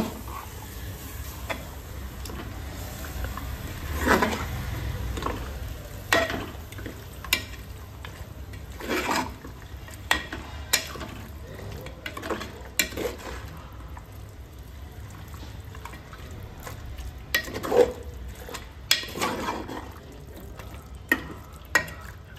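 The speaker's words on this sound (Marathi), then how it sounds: "पेस्ट आहे घालून घेऊया। छान असे एकत्र मिक्स करून घेऊ।" Black masala paste being stirred into chicken in a hot pan, a spoon scraping and turning the pieces over a steady low sizzle, with periodic louder scrapes and clatters, close by and without talk.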